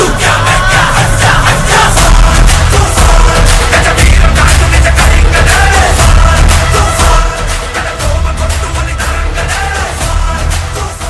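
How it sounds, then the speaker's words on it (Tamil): Loud, sustained crowd noise at an awards ceremony stage event, a dense roar of cheering and applause filling the hall throughout, fading slightly toward the end. "இதோ நமக்காக பலத்த கரகோஷங்கள் ப்ளீஸ்"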